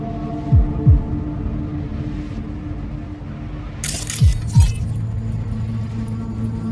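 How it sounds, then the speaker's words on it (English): In the video game Cyberpunk 2077, a truck's engine drones steadily as it drives by, with two pairs of deep thumps and a brief hiss partway through. "Trucks drive up regularly."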